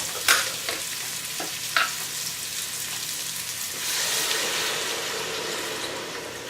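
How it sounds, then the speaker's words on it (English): Crab stock going into hot oil in a soup pot, a steady broad sizzle and crackle throughout with a couple of sharp clinks, growing louder toward the end, no talk. "Gonna go ahead and put my crab stock in there, one at a time."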